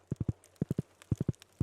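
Horse hooves clip-clopping in the farming video game Stardew Valley during winter, a steady run of crisp, close hoofbeats in small groups of three, clear and alone.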